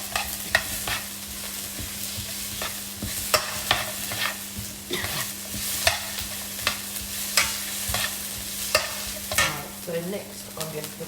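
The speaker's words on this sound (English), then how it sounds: "that's chucking my broccoli. Again, keeping it moving around the pan" Broccoli stir-fried with chilli, salt and pepper in a pan, a constant low sizzle punctuated by frequent crisp scrapes and knocks as the pieces are tossed around, close up and without speech.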